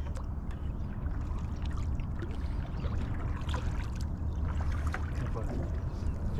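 A 2 horsepower outboard motor pushes a fishing boat in Florida, a constant low droning hum with water washing and splashing around the hull, close and steady throughout.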